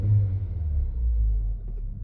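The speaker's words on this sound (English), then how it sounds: "the engine's running and it sounds absolutely sweet. Really, really quiet." A petrol Toyota Auris engine idles quietly and steadily, a low smooth rumble held close throughout with no talk over it.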